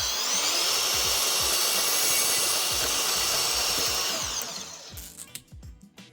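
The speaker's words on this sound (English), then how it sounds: "we need to cut it to length. A bandsaw is one of the easiest ways to do it, but a reciprocating saw also works." A saw cuts through flexible metal conduit with a loud, steady, rasping buzz that runs for about four and a half seconds and then stops. Only a few scattered clicks and light handling noises follow.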